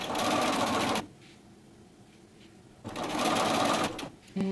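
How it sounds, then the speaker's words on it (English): A sewing machine stitches all the way around a set-in sleeve. It makes two close, steady bursts of whirring with a short quiet pause between them. "And then I start sewing and I go all the way around."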